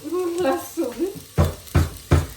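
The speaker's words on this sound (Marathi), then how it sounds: "ह्याच्यात मी मिरची टाकून घेते." Green chilies sizzle and get stirred in a hot pan for pulav, a soft frying hiss followed by three sharp, close scraping stirs of a spoon against the pan.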